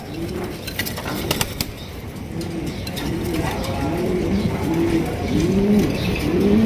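Indonesian pigeons at a sale coo repeatedly in close, rising-and-falling calls that grow louder and more frequent, over a constant background hum of the flock.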